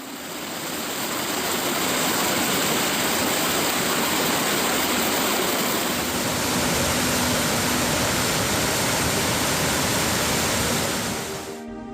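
Small stream swollen by monsoon rain, a strong, continuous rushing roar of water at close range, steady throughout with no voices.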